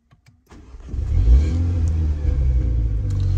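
A few faint clicks, then a MINI JCW engine cranks and catches, settling into a steady, rumbling idle close by.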